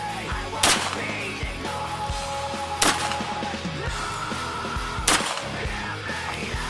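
Three sharp, loud gunshots spaced a couple of seconds apart during night combat shooting practice, each a sudden crack over a steady background hum with faint scattered noises between them.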